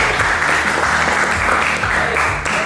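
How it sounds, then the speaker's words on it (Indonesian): Students in a classroom clap together during a literacy lesson, a loud, dense, continuous burst of hand claps that carries evenly from start to finish. "Tepuk tangan."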